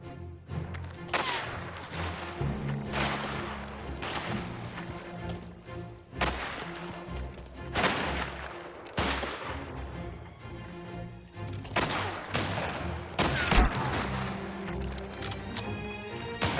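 Rapid gunfire bursts in the video game Mafia: The Old Country, loud repeated shots and impacts in uneven clusters layered over a busy game soundscape, with thuds and crashes between volleys.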